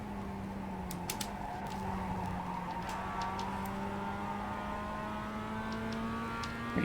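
Simulated Mazda race car lapping Okayama in iRacing, its engine droning steadily with shifting pitch and faint tyre noise throughout, no talking.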